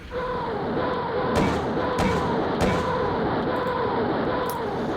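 Bombs exploding in the Decisive Campaigns: Ardennes Offensive war game, heard as three sharp, loud blasts spaced about a second apart over a steady droning rumble.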